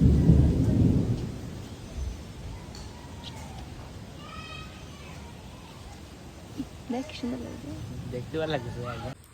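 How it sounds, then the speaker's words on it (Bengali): Thunder from an approaching storm rumbles loudly at the start and fades away, leaving a quieter background in which a cat meows several times toward the end. "ভীষণ ঝড় উঠেছে কিন্তু বৃষ্টিতে এখনো আসেনি"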